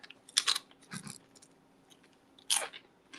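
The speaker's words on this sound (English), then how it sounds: "I hear that crunching." Close, crisp crunching bites while someone chews food, several sharp bursts separated by short pauses, with no voices.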